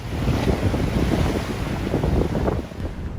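Wind and surf out at sea in the Indian Ocean off Kenya, heard from a naval vessel: steady, loud broadband rushing with wind buffeting the microphone and waves washing continuously throughout, with no voices.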